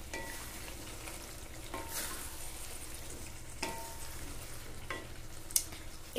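Flat beans with chicken skin cooked without water and stirred in a pan, a soft continuous sizzle with occasional spatula scrapes and knocks, fairly quiet.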